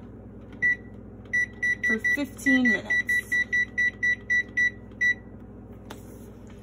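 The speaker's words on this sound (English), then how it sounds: "I'm gonna set my timer on the oven" An oven timer being set for baking muffins in a home kitchen gives a quick run of about a dozen short, evenly spaced electronic beeps as the buttons are pressed, close and clear, with someone talking over part of it.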